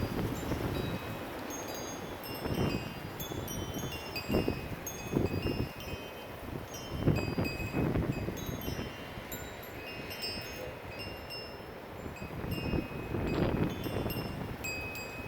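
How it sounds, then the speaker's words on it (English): Strong gusts off the Colorado foothills, reaching about 80 miles per hour during a high wind warning, roaring and buffeting the microphone in repeated surges over a constant rushing background. "There we go, here comes another gust."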